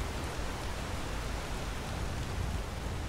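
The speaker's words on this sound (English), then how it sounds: "If I can have a little bit of rain on my head, what is wrong with me that I can't have a little bit of rain on my paws?" Steady rain falls in Skyrim, a hiss of video game rainfall that stays soft and unchanging with no voices or other sounds on top.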